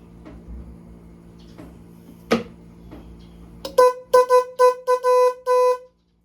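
Faint clicks and scraping as a faulty car horn is adjusted, then the horn blares in a series of short honks and one longer blast, loud and close.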